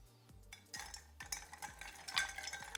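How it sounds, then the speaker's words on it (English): Hand-cracked ice stirred in a mixing glass for an Old Fashioned cocktail: quiet, rhythmic clinking and rattling of ice against glass at a steady pace, close up, without speech. "A pro bartender is gonna have some hand-cracked ice readily available to stir cocktails."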